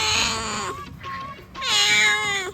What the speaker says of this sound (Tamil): பூனை வந்துட்டு பூனையை தூக்கு